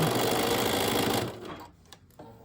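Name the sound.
sewing machine stitching through rickrack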